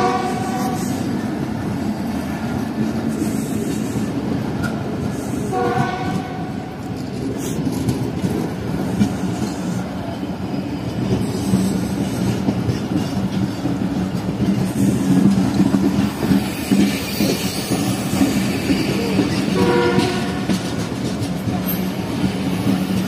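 A Pakistan Express train runs on rails after flood restoration work, its steady rumble and clickety-clack of wheels continuous and close throughout, with no talk.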